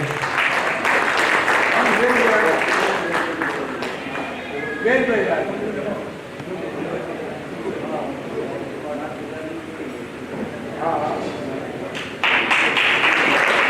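An audience at a ceremony in Kanpur honouring descendants of revolutionary fighters claps loudly, with dense applause at the start and again near the end and someone talking over the quieter middle stretch.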